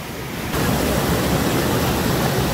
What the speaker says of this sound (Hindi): फाइनली पहुंच चुके गाइस वाटरफॉल के पास, चेक दिस आउट, पूरा यहाँ पर साउंड कर रहा है